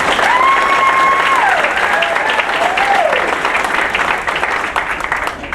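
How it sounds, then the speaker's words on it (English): A crowd at a community event applauds honorees, sustained clapping throughout that fades slightly at the end, with a tonal voice or music line sliding over it early on. "Let's give them all one more round of applause"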